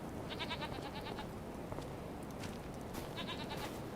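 Goats bleat in short repeated calls over a steady background of ambient farm noise in the Farming Simulator 25 video game, on a winter farm at Hutan Pantai, with two bursts of bleating separated by a quieter stretch.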